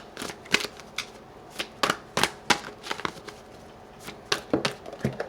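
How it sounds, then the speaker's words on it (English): Tarot cards being shuffled by hand, a run of crisp riffling and slapping bursts in an uneven rhythm, close and fairly loud, with no talking. "while I'm shuffling the cards"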